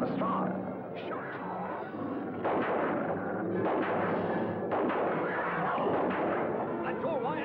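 Gunshots are fired at a hound in a Hound of the Baskervilles drama, with heavy booming blasts over a dense, rumbling din and voices mixed in throughout.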